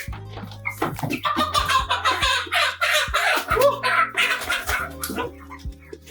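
Large, heavy-bodied chickens being fed worms cluck and squawk busily close by, a dense overlapping chorus with low thumps and some background noise, no talking.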